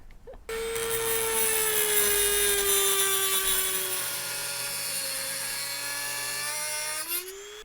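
A power tool cuts a panel inside an Airstream Interstate 19 camper van, a high, steady whining drone that starts abruptly, holds for about seven seconds with a slight dip in pitch, then winds down.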